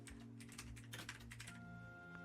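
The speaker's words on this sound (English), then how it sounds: "I'm just typing away." Fingers type steadily on a computer keyboard, producing quick faint clicking taps over a low steady background hum, distant and quiet with no speech.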